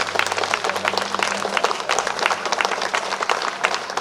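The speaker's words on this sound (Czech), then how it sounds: "my je přivítáme potleskem, jak jsme v Mostě zvyklí" A crowd at a live music event in Most claps to welcome a band, with brisk, continuous applause that is fairly loud and close and carries a faint low hum underneath.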